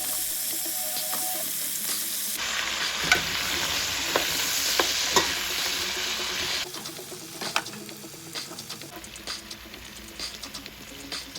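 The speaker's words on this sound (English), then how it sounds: "Now that the oil and butter are sizzling and hot, go ahead and drop those potatoes in." Steady loud sizzling of potatoes frying in hot oil and butter in a skillet, a continuous crackling hiss with occasional stirring knocks, no voices.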